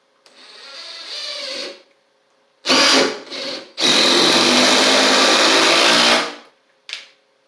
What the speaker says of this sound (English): Now let's try the noise of the oil impulse.